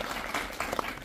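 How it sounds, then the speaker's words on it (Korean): A short burst of audience clapping at a film screening Q&A, fairly faint and brief, with a few distinct claps standing out. "한 가지 박수 먼저 주시면"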